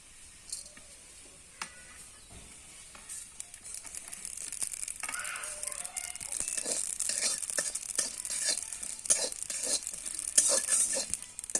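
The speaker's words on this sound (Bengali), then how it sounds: "এগুলোকে একটু ভেজে নেব" Whole spices crackle and sizzle in a hot pan, faint at first and growing busier, with scattered ticks and scraping stirs.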